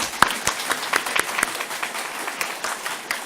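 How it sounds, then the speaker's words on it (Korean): Church congregation applauding at a ceremony installing an emeritus pastor: a light scattering of separate handclaps, fairly sparse and moderately quiet, with no talk over it. "박수 한번 쳐드리겠습니다"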